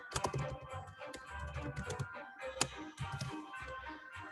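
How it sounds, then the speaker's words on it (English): Fast, irregular typing on a computer keyboard, close and fairly quiet, with clustered key clicks and one sharper tap partway through, no talk. "I'm thinking and typing at the same time."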